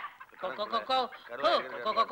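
A voice imitates a rooster's crow with clucking, sing-song calls, close and loud, in a few rising and falling bursts.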